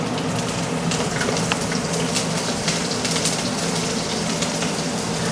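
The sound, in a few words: green chillies sizzling in hot oil with fried bhetki fish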